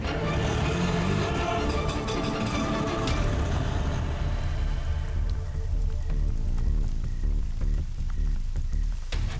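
Heavy rain pours down steadily in an even, dense patter, with a low rumbling engine underneath that fades partway through.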